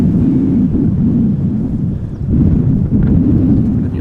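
Wind gusts across an open microphone at Amsterdam Schiphol Airport, making a steady, loud low rumble and buffeting that swells and dips without pause.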